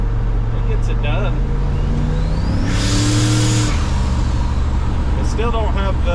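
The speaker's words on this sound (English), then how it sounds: "I still don't have the wastegate hooked into the exhaust, so that's what the loud whooshing sound that it has" A turbocharged car engine with its wastegate not yet plumbed into the exhaust revs hard and loud, a broad whoosh swelling over the engine drone for about a second mid-clip, with a brief voice at the start and end.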